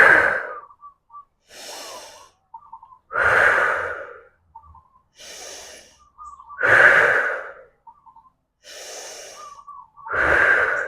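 Deep, heavy breathing during an exercise workout, with loud inhales and exhales repeating in a steady rhythm about every two seconds, close and alone, with faint gasps between the breaths.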